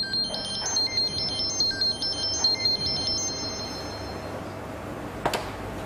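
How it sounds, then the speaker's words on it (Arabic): A mobile phone plays a melodic electronic ringtone, a repeating pattern of high beeping notes that rings for several seconds and then stops, with a faint room background. "شو سالفه تلفونك من اول ما قعدنا وهو قاعد يرن وانت مطنشته؟"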